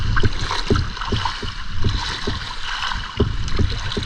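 A boat moving on rising water during a fishing outing, with rhythmic splashing and knocking close by over a steady wash of wind and water.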